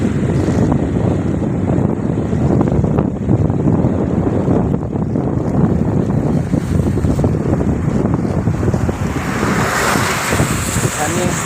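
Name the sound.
rushing floodwater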